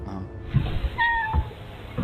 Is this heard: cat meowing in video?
yes